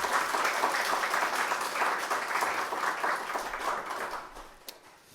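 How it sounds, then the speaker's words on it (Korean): Sustained applause from a church congregation at a Sunday worship service fills the room, dense and steady, then thins and fades out near the end. "우리 하나님께 감사와 영광의 박수 올려드리겠습니다."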